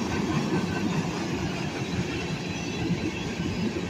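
A freight train of empty scrap gondola cars rolls past close by, giving a loud, continuous rumble and rattle of wheels and hollow car bodies with no break.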